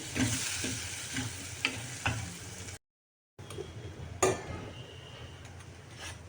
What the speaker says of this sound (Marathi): गुळाचं पाणी थोडं थोडं करत टाकायचं आहे